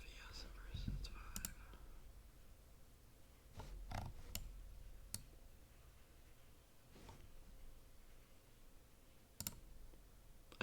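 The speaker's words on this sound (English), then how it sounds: "I hear my little brother typing away" Sparse keyboard clicks tapped at irregular intervals, faint and somewhat distant, with soft whispering in the background.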